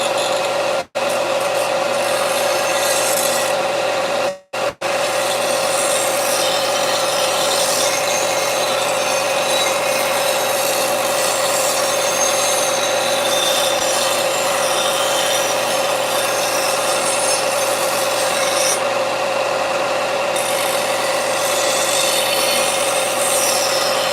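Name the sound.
sanding homemade armour with finer grit sandpaper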